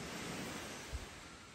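Ocean surf washes in a low, steady hiss on Tafatafa Beach in Samoa after dark, a broad continuous wash with one soft thump near the middle and no voices.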